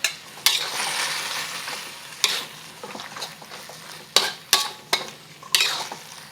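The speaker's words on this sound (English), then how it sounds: "Now that the sauce is starting to simmer, I'm going to add our cornstarch slurry. Adding our beef back in along with all the juices." Beef is stirred into a simmering sauce with cornstarch slurry, giving a soft bubbling sizzle. Several sharp scrapes and clinks of a utensil against the pan ring out close up.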